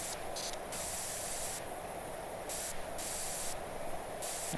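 Steady pressure washer spray from PowerWash Simulator 2, a loud continuous hiss lasting throughout, with brief rhythmic pulses where the jet cuts in and out, no talking.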